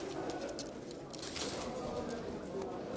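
A pigeon at an ornamental pigeon show gives soft low cooing beneath a constant crowd murmur and nearby talk in a busy indoor hall.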